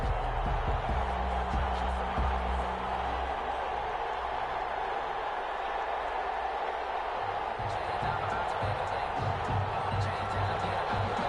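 Stadium crowd in a PS4 NFL football video game, Indianapolis Colts against the Dublin Shamrocks before kickoff, a steady dense roar that runs unbroken throughout with a few faint thuds beneath.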